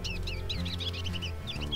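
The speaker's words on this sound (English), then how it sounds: "chatty birds" Birds chirp busily in the WolfQuest video game, a rapid run of bright overlapping calls over a low steady game hum, close and without talk.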